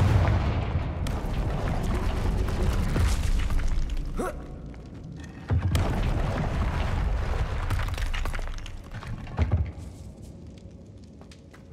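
Confringo blasting spell explosions in Hogwarts Legacy, booming impacts and crackling blasts over a dense, rumbling combat background, with a sharp hit midway and a smaller burst near the end.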